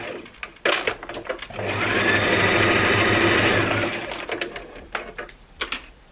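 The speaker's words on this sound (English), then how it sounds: "And on that mark, you just stitch right across." A sewing machine stitching straight across a toiletry bag, a steady whirring run of about two and a half seconds framed by short clicks and fabric handling before and after.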